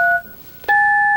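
A cordless telephone keypad gives two dual-tone dial beeps, a short one then a longer held tone, with a soft click between them, close and clear.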